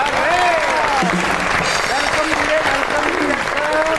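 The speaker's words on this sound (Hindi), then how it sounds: "आपकी बहुत सी तालियों में my favourite the one and only पिया कैसर।" Studio audience applauding a television host's entrance, a steady dense wash of clapping throughout with a few cheers and voices mixed in, loud and sustained.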